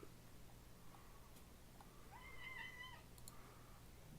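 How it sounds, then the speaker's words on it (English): A house cat gives a single short meow faintly in the background of a quiet room, with steady low hum underneath and no talking. "Shut up, cat."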